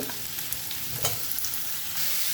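Potatoes and eggplant fry with onions in mustard oil, with bay leaf in the pan for a Bengali chitol fish dish, giving a steady close sizzle broken by a few light stirring scrapes.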